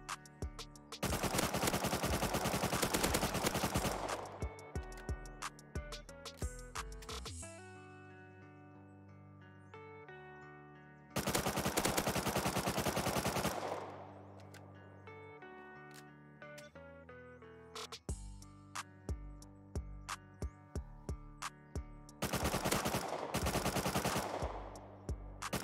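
Loud automatic gunfire from a firefight in the survival game Rust comes in three long, rapid bursts, separated by quieter stretches with a faint tonal backdrop.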